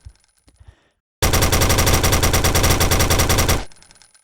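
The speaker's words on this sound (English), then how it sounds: "The machine pistol rapidly fires low-damage bullets with a reasonable amount of spread" A machine pistol fires in rapid bursts in the Templar Arena arena shooter video game, a dense, loud, evenly spaced stream of shots lasting about two and a half seconds before it cuts off.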